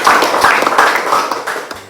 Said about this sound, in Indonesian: tepuk tangan buat kelompok C.